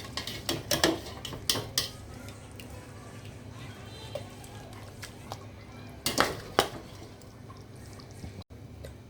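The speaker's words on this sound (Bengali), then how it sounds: "আমি হাঁড়ি থেকে গোশগুলোকে এইভাবে ছেঁকে তুলে নিব।" Goat meat strained out of a cooking pot for tehari, with clattering of utensils against the pot and dripping liquid in bursts over a quiet background.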